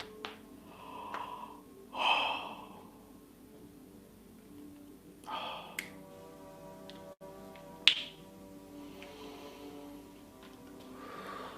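A person yawns during a guided relaxation, with soft breathy exhalations and a few faint clicks over a quiet sustained musical drone.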